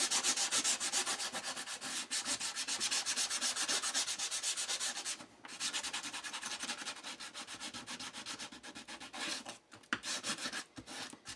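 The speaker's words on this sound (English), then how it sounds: "You want to take something, sandpaper, you want to scuff that up for adhesion purposes" Sandpaper scuffs a leather rifle sling for a .257 Roberts in a steady, close, fast back-and-forth rasp that runs almost without a break, apart from a couple of brief pauses.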